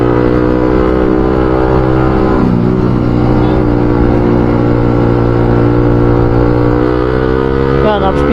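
A manual-transmission motorcycle engine drones loudly and steadily close by, its pitch dipping once as a gear changes before climbing again, with a voice talking over the engine.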